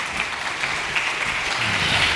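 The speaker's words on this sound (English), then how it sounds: "Huge applause to John." An audience at a tech conference applauds a speaker walking onto the stage, the clapping steady and fairly loud throughout the short stretch with no talking over it.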